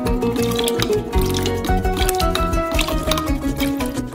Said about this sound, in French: Et versez du vinaigre, 7 cuillères à soupe.